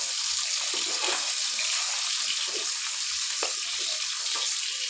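Silver carp pieces fry in hot oil with a steady, close hiss and crackle, punctuated by a few brighter sputters, with no one talking.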